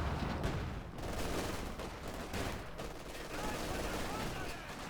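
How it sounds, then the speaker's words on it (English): Machine gun and Grenadier rifle fire in the Company of Heroes 2 video game, dense continuous bursts of gunfire and battle noise at a moderate level, with no one talking over it. "MG and Grenadiers are going to be firing in the background"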